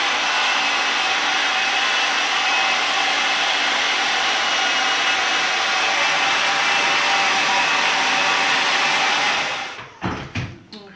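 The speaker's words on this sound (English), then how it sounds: "But you're going to blow dry up," A hair dryer blows steadily for about nine seconds, close and loud, while hair is dried straight up. It then cuts off, followed by a few faint handling sounds.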